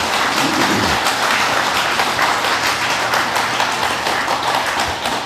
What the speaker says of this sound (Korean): 감사의 큰 박수도 한번 보내주시기 바랍니다